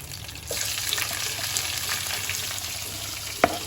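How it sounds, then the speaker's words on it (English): Onions frying in a pan for prawn sambal give a steady close sizzle with a faint clink near the end, no talking. "While the onions are cooking, you add in some salt first."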